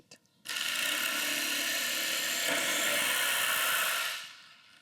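A Festool Carvex PS 420 jigsaw switches on and runs steadily for about four seconds. The close, loud whir has a buzzing mechanical edge and winds down at the end, with no voices.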